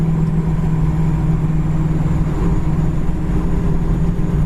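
A 1970 Plymouth Cuda with a four-barrel carburetor drones steadily while driving, a loud, even engine hum with a low throb and no voices over it.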